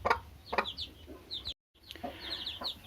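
A Kairali breed hen clucks close by in short, soft bursts while being set on eggs to brood, a few low clucks spaced irregularly with a brief moment of silence partway through.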